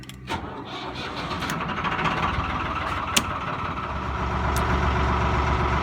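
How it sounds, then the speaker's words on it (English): A narrowboat diesel engine on a canal cranks and catches, then settles into a steady idle that grows slightly louder, with a couple of sharp clicks along the way. "let's start the engine up and get going"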